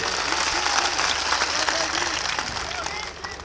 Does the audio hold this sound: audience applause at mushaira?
yes